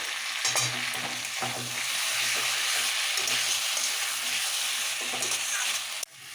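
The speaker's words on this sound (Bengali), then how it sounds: "ধনে পাতা বাটা দু চামচ ধনে পাতা বাটা এতে মাসে মাছের স্বাদটা দ্বিগুণ বেড়ে যাবে এবার একসাথে কষাবো" Small charapona fish sautéing with coriander paste in a pan, a loud continuous sizzle with repeated scraping strokes of a spatula, then a sharp knock near the end.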